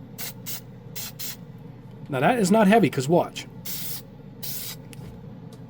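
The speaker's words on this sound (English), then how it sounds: "I've never seen a spray can go on that nice and light" A Dupli-Color primer spray can sprays onto plastic models in a paint booth, letting out several short, sharp hissing bursts close by, before and after someone speaks briefly.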